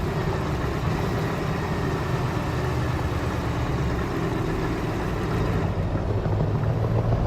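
A Scania truck engine in Euro Truck Simulator 2, a steady low diesel rumble and drone holding even for several seconds, alone with no talking.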